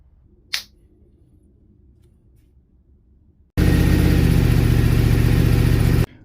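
A 2023 Honda Hornet 750 motorcycle engine, just fitted with a new sump, fires up after a quiet pause and settles into a loud, steady close-range idle for a few seconds before cutting off abruptly.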